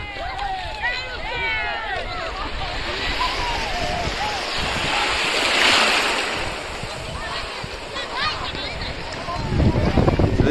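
Sea waves wash onto the beach at Bakkhali in a continuous, fairly loud rush of surf with a swell near the middle, while people talk nearby.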